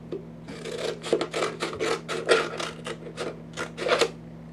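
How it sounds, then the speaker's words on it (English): Scissors snip repeatedly through a plastic soda bottle, a steady run of about a dozen rasping cuts close by with a faint hum underneath. "use the scissors and make a cut up through here all the way to where it starts to curve"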